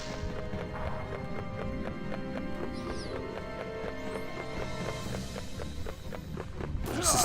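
Horse hooves clip-clop in a steady, continuous galloping rhythm from MediEvil's horseback fight, moderately loud throughout, with game music and effects underneath.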